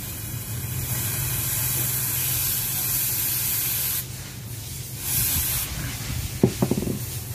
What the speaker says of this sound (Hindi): इसके अंदर आपको स्प्रे करना है।